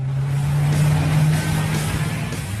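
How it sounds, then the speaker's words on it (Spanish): A Koenigsegg Agera's twin-turbo 5-litre V8 runs with a loud, steady low drone heard close from inside the cabin, holding a strong engine hum for a couple of seconds with slight rise and fall. "evidentemente la cabina se inunda con el sonido del motor"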